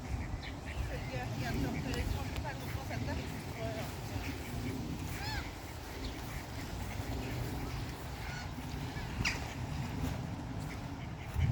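Large ducks quacking on a pond in Oslo, Norway, with repeated honks and quacks over a steady outdoor background while someone talks throughout.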